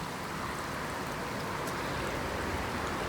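Rainwater runs down a hiking trail in a steady, broad rushing wash, close and continuous, with no voices over it.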